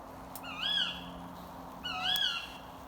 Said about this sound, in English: I think it's an owl.